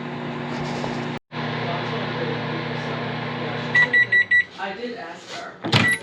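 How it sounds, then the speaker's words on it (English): Microwave oven humming steadily while heating coconut cream pie filling, a loud, even drone that stops after a brief break, followed by a series of four beeps, then clicks and handling sounds. "we're going to microwave this to cook instead of doing it over the stove top"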